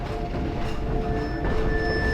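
A train ride from the video game Half-Life 2 Episode One: a steady, loud rumble of rolling rail cars with faint high tonal whines running throughout, and nobody speaking.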